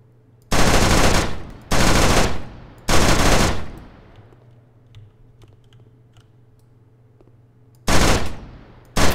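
Rapid bursts of automatic gunfire from a cover shooter video game boss fight, three loud sustained volleys close together, then a quiet lull with faint hum before another burst returns.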